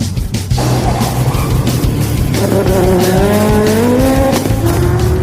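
A car at a Power Stop Brakes speed stop challenge, loud close engine revving and rising in pitch as it accelerates, with tire squeal and skidding alongside the roaring motor.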